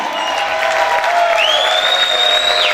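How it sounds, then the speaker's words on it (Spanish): A church congregation applauds and cheers loudly during a sermon, a dense wash of clapping with a few whoops and a rising whistle-like voice over it. "Grita y aplaude fuerte al Rey."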